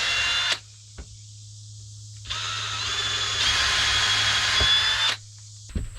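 A power drill whirs in two bursts while drilling pilot holes, a short one then a longer steady run, close up, with a few small clicks between.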